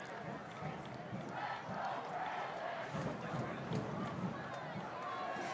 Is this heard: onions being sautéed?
no